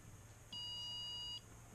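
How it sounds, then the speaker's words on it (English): A single steady electronic beep from an AOMWAY Commander V2 headset as it powers on, clear and alone for just under a second over a low background hum. "you guys should hear the beep here in just a second."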